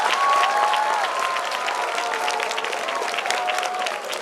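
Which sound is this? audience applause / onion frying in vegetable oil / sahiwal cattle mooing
audience applause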